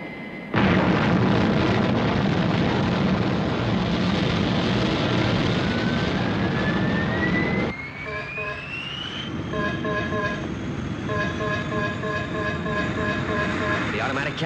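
A jet aircraft taking off in an animated puppet series set in New York, a loud sustained roar with a rising whine that fades into a quieter passage with pulsing electronic tones.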